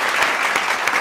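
A studio audience at an Ethiopian TV talk show claps steadily and fairly loudly to welcome a guest. The applause is one short, continuous burst.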